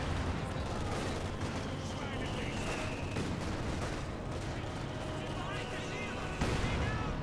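Mortar rounds landing amid Company of Heroes 2 warfare, a busy mix of thuds, crackling gunfire and artillery, ending in a sharper, louder impact near the close, with someone speaking throughout.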